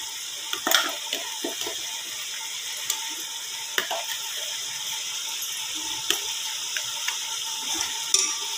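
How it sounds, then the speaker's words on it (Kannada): Water is poured into a simmering mutton masala gravy for mutton chops, giving a steady close hiss and sizzle with scattered soft pops and clicks throughout. "ಸೊ ನಿಮಗೆ ನೀರು ಎಷ್ಟು ಬೇಕಾಗುತ್ತೆ ಅಷ್ಟು ಹಾಕ್ಕೋಬೋದು"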